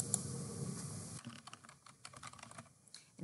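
Computer keyboard typing: a short burst of close, quick key clicks, irregular and fairly light, following a brief steadier background noise at the start.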